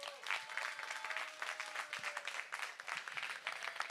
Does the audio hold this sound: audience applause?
yes